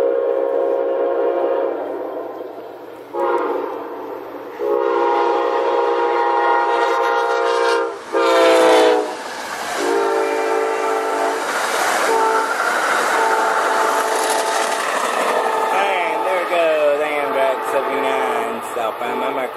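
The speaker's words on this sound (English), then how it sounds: "Welcome to another train." A train horn blares in long sustained blasts, pausing briefly and sounding again, over the rumble and clatter of CSX or Amtrak rail cars rolling close by.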